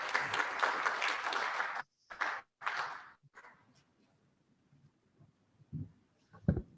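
Applause from an audience at the opening session of a conference rings out densely for about two seconds. Two shorter bursts of clapping follow, then a near-quiet room with a few faint handling bumps.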